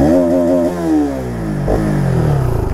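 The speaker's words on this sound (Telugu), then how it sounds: "సో ఇప్పుడు దీన్ని ఒక్కసారి ఎగ్జాస్ట్ నోట్ చూద్దాం అనమాట మనము" A used Bajaj Pulsar 200NS with almost 17,000 km sends out a loud, close exhaust note as its engine revs, the pitch sweeping down and then back up in a short throttle blip.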